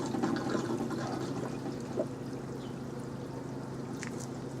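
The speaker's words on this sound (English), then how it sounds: "now you see it's draining from the second layer" Water drains steadily from one layer of a flood-and-drain nursery tray into the next, pouring and trickling in a continuous rushing stream, close by, with no talking.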